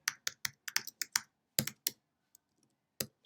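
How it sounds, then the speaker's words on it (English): Quick bursts of typing on a computer keyboard, sharp close key clicks in short irregular clusters with gaps between them, alone and fairly quiet. "Excuse my typing."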